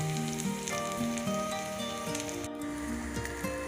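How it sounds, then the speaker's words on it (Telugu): Stuffed okra (bendakaya) masala sizzles and fries steadily in a pan, a continuous dense crackle with a faint background hum, no talking. "ఇదిగోండి ఈ విధంగా బాగా వేయించుకోవాలి"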